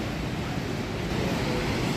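Steady broadband wash of surf rolling onto an Australian beach, a constant near roar without distinct breaks, with some wind noise mixed in and no voices.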